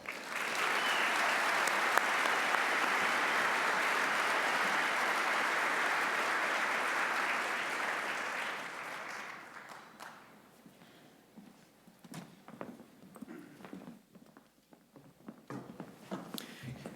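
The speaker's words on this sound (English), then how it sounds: "Let's thank our award winners tonight again and give them another round of applause" An awards ceremony crowd gives award winners a sustained round of applause for about nine seconds, then it fades to scattered claps, footsteps and faint room noise.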